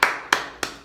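Four sharp hand claps ring out in an even, steady rhythm at a church service, close and distinct, each followed by brief silence.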